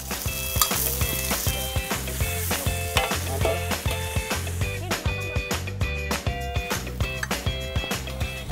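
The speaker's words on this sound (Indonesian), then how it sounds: "Ini dia tumis teripang ala kampung Samate Raja Ampat." Sea cucumber stir-fried with onion, chili and vegetables, Samate village style in Raja Ampat, sizzling steadily close by, with repeated sharp scrapes and taps of a utensil against the pan in an uneven rhythm.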